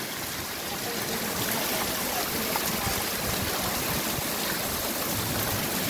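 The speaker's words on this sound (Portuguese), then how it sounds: "Rajada de vento e muita chuva." Heavy rain pours steadily in the Brazilian Northeast, a dense, continuous roar of water with gusting wind, loud and close throughout without pause.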